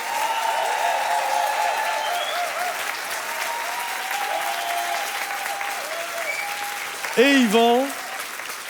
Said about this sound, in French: Est-ce qu'on peut applaudir bien fort,